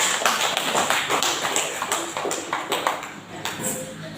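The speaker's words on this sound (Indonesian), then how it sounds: "Sekali lagi tepuk tangan untuk kelompok Aljawa" An audience applauds a presenting group at a school teacher-training session, a dense, steady patter of many hands clapping that stays even throughout with occasional louder taps.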